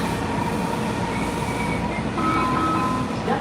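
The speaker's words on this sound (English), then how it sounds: "This is the Red Line Train." A Red Line metro train at a station: a close, steady rail rumble with a thin metallic wheel squeal rising toward the end, and no voices.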